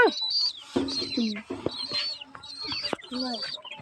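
Chicken clucking close by in a farmyard about to be butchered, a run of short throaty clucks and squawks with sharp high calls, steady through the whole stretch with no talk over it.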